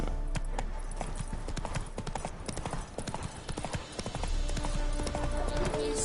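Roach, the horse in The Witcher 3, trots along in a brisk, even clip-clop of hooves close by, with a voice speaking briefly over the rhythm.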